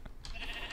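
Sheep bleating in the Minecraft video game, a short burst of a couple of brief, close bleats with no talk over them.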